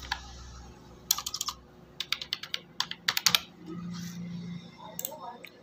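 Typing a mobile number on a computer keyboard for online vaccine registration: bursts of close, crisp key clicks in quick runs with short pauses, alone and fairly loud.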